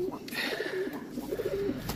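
Pet pigeons coo softly in an indoor bird room, low rolling calls repeating close by at modest volume, with faint background noise and no clear speech.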